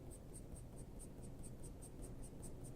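Pencil shading on paper for a cat drawing produces a soft, rapid scratching in a regular back-and-forth rhythm, faint and close, repeating steadily with no voices.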